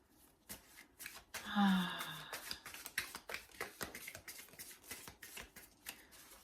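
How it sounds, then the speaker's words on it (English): Oracle cards shuffled by hand, giving a rapid run of dry papery riffles and taps that repeat steadily throughout, close and fairly quiet, with a brief tonal sound near the start. "I would like to draw some oracle cards."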